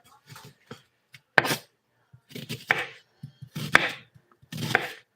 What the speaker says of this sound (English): The rest of this I'll cut up and mix with the meat.